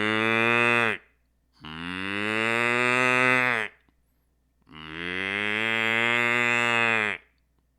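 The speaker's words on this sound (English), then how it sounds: "Cows were mooing." Cattle on a farm moo in two long, loud, drawn-out calls close by, each lasting a couple of seconds with a brief quiet gap between them, plus a short clipped call at the start; a voice murmurs faintly.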